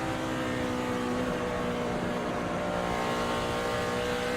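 Jeff Burton's NASCAR race car at Texas holding high RPM through turns 3 and 4, a loud sustained engine drone that barely lets off the throttle, steady and unbroken.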